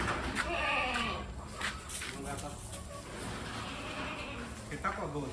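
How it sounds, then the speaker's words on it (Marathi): Goats bleat on a small village farm among kids and adult does, with calls rising over steady rustling background noise and people talking nearby. "आमच्या शेळ्या आहेत"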